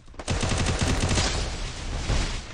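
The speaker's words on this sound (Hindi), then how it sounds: "सरप्राइज शॉट लगा दिया मुझे।" Gunfire in a video game: a rapid automatic burst of closely spaced loud shots, followed by a dense continuous crackle of fire, close and intense.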